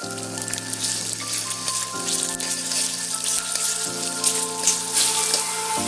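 Ginger and garlic paste frying in hot oil for chicken biryani, a dense continuous crackling sizzle like rain on a surface, steady and close, with a low hum underneath.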